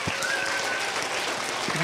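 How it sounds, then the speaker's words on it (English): A roomful of first-grade children clapping at a school chapel, a short, fairly quiet burst of scattered applause with a faint tone drifting through. "give her a round of applause"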